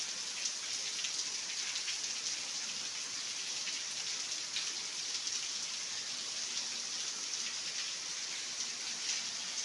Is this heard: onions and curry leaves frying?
no